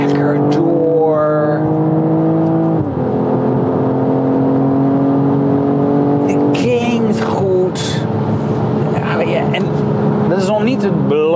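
A BMW M440i xDrive Gran Coupé accelerates hard, its engine tone climbing through rising revs with a gear change partway, loud and close, while someone talks over it.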